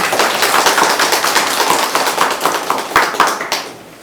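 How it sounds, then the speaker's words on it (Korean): Audience applause at a forum on gender and climate change, a dense, loud burst of clapping from a crowd, sustained for several seconds before thinning out at the end. "다시 한번 큰 박수 부탁드립니다."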